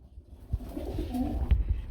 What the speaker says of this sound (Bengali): আমরা এখানে দেখতে পাচ্ছি একজোড়া ডাউন ফেস কবুতর রয়েছে